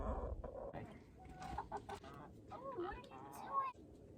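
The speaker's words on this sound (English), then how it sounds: "The chickens are out." Chickens cluck and squawk intermittently at close range at an off-grid tiny house, with some background noise and low rumbling underneath.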